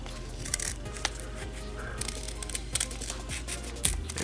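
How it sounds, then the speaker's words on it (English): Repeated snips and crinkles of origami paper being cut along a crease with scissors, close up, with small crisp clicks spread over a few seconds and no talking. "we're going to cut along this crease right here. So get your scissors and let's start cutting"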